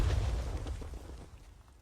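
A grenade goes off in a Call of Duty match, a single deep boom that hits at once and rolls off into a fading low rumble within about two seconds, with no voices.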